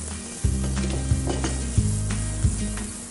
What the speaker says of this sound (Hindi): अब हम इसमें डालेंगे हमारे चॉप्ड अनियंस